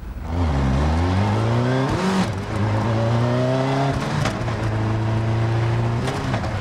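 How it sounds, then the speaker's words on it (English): A car with a Suzuki Hayabusa motorcycle engine revs hard and high-pitched, climbing through gears with sharp shifts between pulls, loud and close throughout. "A Hayabusa engine car."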